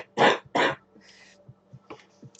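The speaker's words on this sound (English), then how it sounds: "I'm about to cough again." Two sharp, close coughs come in quick succession, followed by quieter throat sounds and soft breathy noises.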